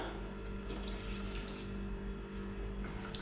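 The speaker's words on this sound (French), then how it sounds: "de tarhana directement dedans avec un verre et demi d'eau chaude" Hot water pours steadily into a bowl of Turkish tarhana soup mix, making a continuous close splashing wash that holds at an even level throughout, with no talking.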